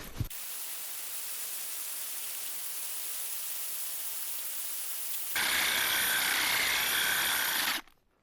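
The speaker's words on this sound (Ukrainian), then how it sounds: "зробить 68-й отвір у граніті за допомогою алмазної коронки" A Metabo UHEV 2860-2 hammer drill with a diamond core bit grinds into dry granite, a steady close hiss that jumps to a harsher, louder pitch for the last few seconds before stopping abruptly.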